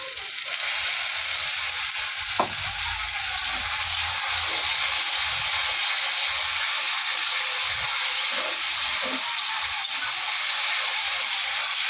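Tomato paste frying in a pan, with a steady bright hiss and sizzle throughout and a few soft scraping or clinking knocks of a utensil near the start and middle. No voices.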